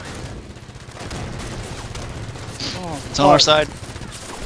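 Halo 5 multiplayer gunfire during a capture-the-flag match, rapid bursts of shots building to a loud volley, mixed under excited player talk.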